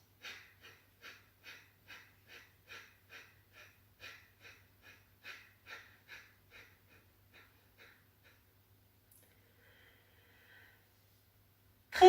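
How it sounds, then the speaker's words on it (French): Pranayama breathing during a morning session: about fifteen quick, rhythmic breath bursts in steady succession, close and fairly soft, slowing and fading toward the end, with a faint low hum underneath. "expirez, inspirez, expirez, inspirez 3/4, 20 dernières répétitions"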